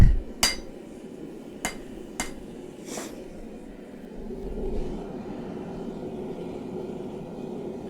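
Several sharp metallic hammer strikes land while forging a karambit blade, four spaced ringing blows followed by a low steady rumble.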